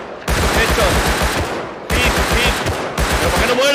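Rapid bursts of Thompson submachine gun fire in the video game Rust, loud and close, with three sustained volleys of regular shots separated by brief pauses; a voice speaks faintly under the shooting.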